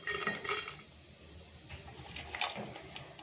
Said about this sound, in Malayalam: അതിലേക്ക് നമുക്ക് കുറേശ്ശെ ഇട്ട് കൊടുക്കാം